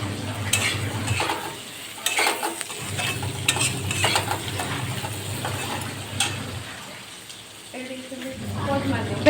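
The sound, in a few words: stirring okra with tomato, salt and turmeric in a pan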